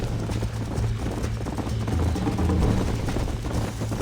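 Hooves gallop steadily from a horse ridden in the western game Red Dead Redemption, a dense continuous clatter with low rumbling, loud and close, alone without talk.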